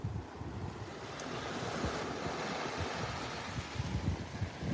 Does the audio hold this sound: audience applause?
no